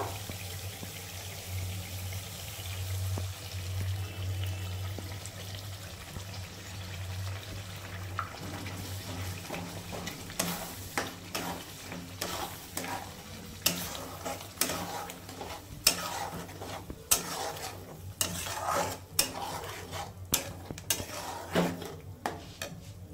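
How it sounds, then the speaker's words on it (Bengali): Fresh spinach tipped into a pan of spiced gravy for palak paneer, with a low hum at first, then a run of crisp stirring scrapes and spoon knocks against the pan. "বন্ধুরা এখন পালং শাকটা দিয়ে দিব।"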